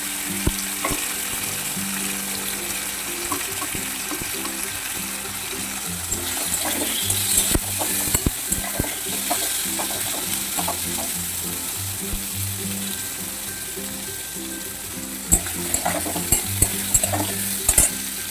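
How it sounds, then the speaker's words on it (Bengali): Spices and melon seeds frying together in a pan at home, a steady soft sizzle with scraping and stirring clicks from a spatula throughout, close and continuous. "একসঙ্গে একটু হালকা করে ভেজে নেব"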